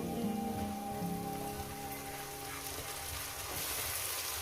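Rohu fish belly pieces fry in a pan with a steady, dense crackling sizzle that carries on evenly throughout, close and moderately loud.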